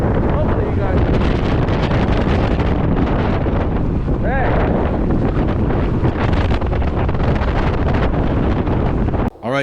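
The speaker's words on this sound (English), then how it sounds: "It's a little windy out." Strong wind buffets the microphone outdoors beside an Eahora M1 two-seat electric chopper scooter, a loud continuous roaring rumble with gusty swells that fills the whole stretch and stops abruptly at the end.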